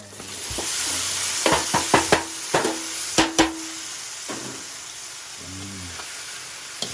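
Baguio beans stir-fried with garlic and onion in a pan, a steady sizzle broken by a quick run of sharp metal scrapes and clacks from the spatula, then quieter frying.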